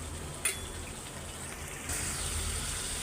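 Jackfruit seeds being fried and stirred in a pan alongside fish curry give a steady, close sizzle with a brief clatter early on, and the frying grows louder partway through.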